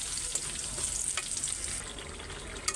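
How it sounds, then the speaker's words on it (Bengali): Sliced onions frying in hot oil for a tempering, a steady soft sizzle with occasional crackles and pops, close by and without talk. "এখানে এই যে পেঁয়াজ বেরেস্তা করতেছি বাগার দেওয়ার জন্য"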